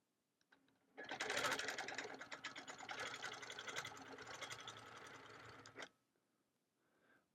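A quilting machine stitches a Celtic Wedding Ring quilt in one steady, fast run of rapid needle clatter lasting about five seconds, then stopping, with faint handling noises before and after.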